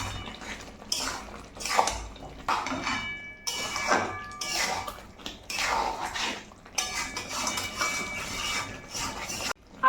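Sugar with a ground paste of poppy seeds and melon seeds being stirred into a pan for potol chingri, heard as repeated scraping and clattering of a spatula against the metal pan in bursts, close and fairly quiet.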